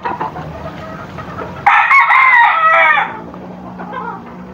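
A rooster about nine months old, raised as breeding stock, crows once loudly and close for over a second, preceded and followed by softer clucking.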